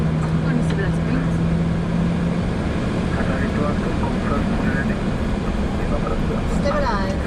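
Boeing 737 jet engines spool up for takeoff from Athens, a loud steady roar heard from the cockpit, with radio chatter and voices running underneath.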